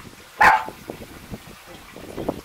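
A dog outside gives a single loud sharp bark, followed by quieter whimpering and snuffling sounds close by in a hot garden setting.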